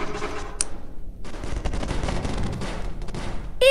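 Gunfire in the video game Melon Playground, a loud dense burst of shots that runs almost continuously through the clip, with a brief sharp tone near the start and another at the very end.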